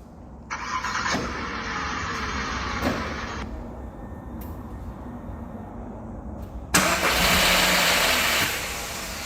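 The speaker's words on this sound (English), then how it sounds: "the actual starter motor of the car continues to run for a little bit" A car's starter motor cranks and whirs after a remote start, a mechanical starter noise running on for a few seconds, then a louder engine surge later on, close by.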